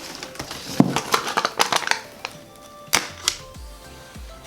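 A packet of protein muesli being opened, with crinkly plastic rustles, tearing and sharp crackles in irregular bursts close by, fading into a few softer handling sounds.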